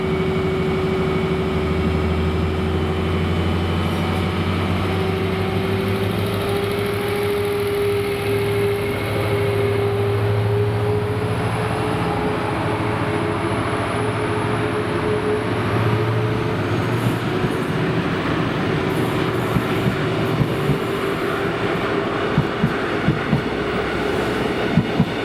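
Two Class 73 locomotives, 73971 and 73961, haul the Aberdeen portion of the Caledonian Sleeper out of Kirkcaldy at night. A loud, steady diesel engine drone with a constant hum carries on throughout, with faint rail clicks toward the end.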